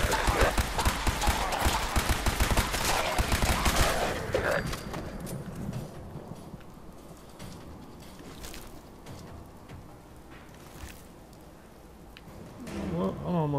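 Rapid gunfire from Fallout 4 crackles in a dense, loud burst over the first four seconds, then gives way to quieter scattered game sounds with occasional small hits and a brief swell near the end.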